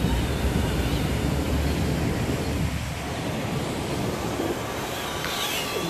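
Strong wind blows steadily outdoors in bushy, tree-lined open ground where a Revell Hexagon Nano drone is flown, a constant loud broadband rush buffeting the microphone for the whole stretch, with no talk.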